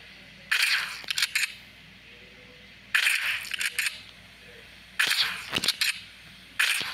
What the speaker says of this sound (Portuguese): Primeiro tiro com ela.